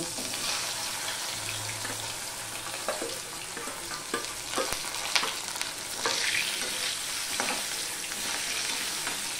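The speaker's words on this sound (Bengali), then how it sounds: "এবারে যে ম্যারিনেট করে রেখে দিয়েছিলাম বেসন মশলা দিয়ে, সেটা আমি এখানে ভেজে নেব" Gram-flour-marinated taro fries in an oiled wok, producing a steady close sizzle punctuated by light scraping and stirring clicks, with faint speech in the background.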